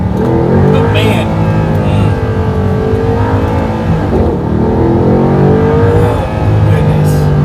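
A sports car engine revs hard while accelerating, a loud, continuous roar whose pitch climbs and dips through gear changes.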